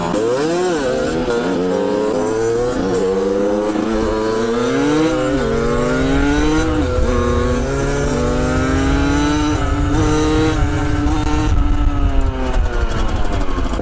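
A motorcycle with a loud, derestricted Turbokit aftermarket exhaust revs repeatedly close by, the engine note climbing and falling in throaty bursts.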